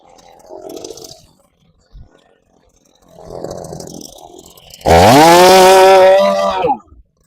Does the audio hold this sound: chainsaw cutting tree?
yes